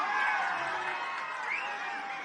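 Crowd at a protest dharna at Indira Park cheering and whooping together, a loud sustained roar of many voices with shouts rising above it.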